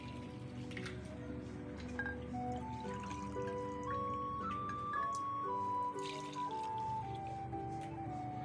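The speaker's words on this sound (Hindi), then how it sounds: "हम लोग इसमें डालने वाले हैं 4 मग पानी" Water from a mug trickles and splashes into a pot of rice for chana matar palao, a soft, steady pour whose pitch climbs as the pot fills, faint and without talk.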